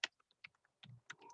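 Fingers type on a computer keyboard in quiet, irregular bursts of crisp key clicks up close, with short pauses between strokes and a quicker run near the end.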